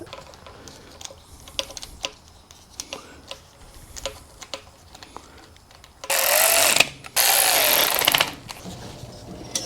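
A power tool cutting through a V-band turbo downpipe flange on a BRZ, with two loud harsh bursts of grinding near the end, after a stretch of scattered tapping and handling clatter.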